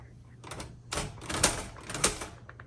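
A 1938 Royal Model B manual typewriter's carriage tabs across to a set stop, giving a close sequence of mechanical clatters and ratcheting bursts with two sharp knocks, then light ticks as it settles.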